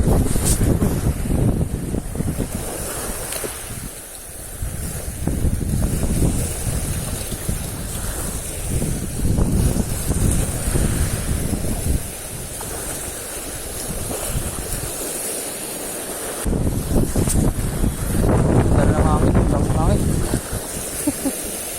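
Strong wind buffets the microphone during ultralight fishing on the water, a rushing, gusty roar that swells and drops, with people talking over it.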